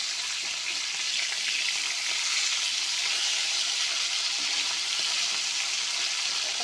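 Soft bhola fish fry in oil in a pan, giving an even, dense sizzle that stays close and unbroken throughout with no voices.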